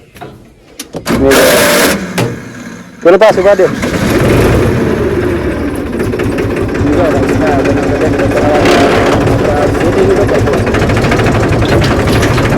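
A low tractor engine chugs steadily throughout, loud and close, with people talking over it and a brief burst of noise near the start.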